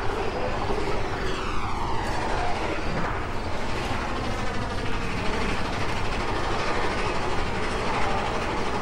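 A theme park ride train in the Roblox video game, set in a Walt Disney World recreation, gives a loud, steady rumbling roar that holds without a break throughout.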